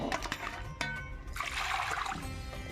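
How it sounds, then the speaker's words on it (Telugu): Pink perch fish being washed in plain water in a home kitchen, water splashing and trickling with a few sharp knocks, then a rushing pour near the end, quiet and close. "ఇప్పుడు మామూలు వాటర్తో క్లీన్ చేసుకోవాలి."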